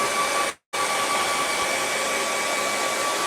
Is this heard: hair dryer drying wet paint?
yes